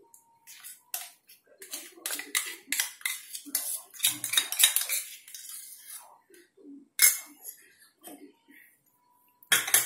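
A spoon mixes tender coconut paste into rabdi in a metal vessel, giving a run of close, irregular scrapes and clinks that come and go with short pauses.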